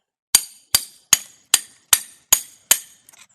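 A big wrench strikes a flat-blade screwdriver seven times in an even rhythm, each blow a sharp metallic clink close up, followed by a couple of faint small taps.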